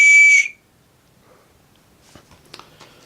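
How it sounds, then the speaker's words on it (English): A Royal College of Nursing whistle, part of an everyday-carry kit for attracting attention, gives one short, loud, shrill blast, then quiet handling clicks and rustles follow. "So, whistle for attracting attention."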